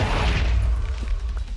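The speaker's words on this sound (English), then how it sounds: "I heard an explosion." A loud, close explosion of a creeper in Minecraft, a booming burst that dies away into rumbling noise.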